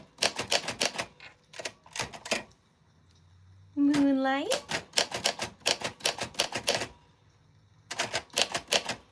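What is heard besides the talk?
vintage typewriter typing on tough paper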